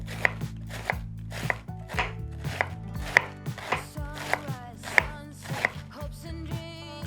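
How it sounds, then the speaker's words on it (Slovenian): About 300 grams of cabbage is sliced very thinly with a knife on a board, making a steady series of about ten crisp chops at an even pace, close and clear. "Zdaj pa vzamemo približno 300 gramov zelja in ga narežemo zelo na tanko."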